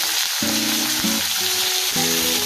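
Peas, carrots and potatoes sizzle steadily in a pan with hot oil, a dense continuous crackle close up, with no voices.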